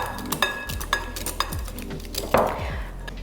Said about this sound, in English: What we've got here is some egg yolk, which we are going to whisk together